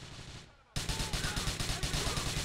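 Rapid, regular gunfire bursts from the Grand Theft Auto: The Lost and Damned video game, starting abruptly after a quieter moment and continuing as steady automatic shots.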